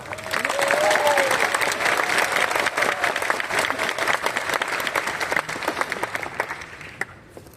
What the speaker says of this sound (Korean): 목사님 나오실 때 큰 박수로 환영하겠습니다